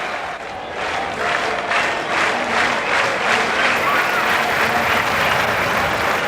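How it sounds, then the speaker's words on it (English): Cricket crowd at Adelaide applauding steadily, a broad sustained wash of clapping that swells slightly and holds, no commentary over it. "the crowd clapping"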